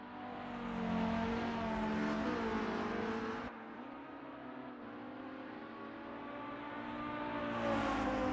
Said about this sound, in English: The Volvo sounds beautiful from outside and inside the car.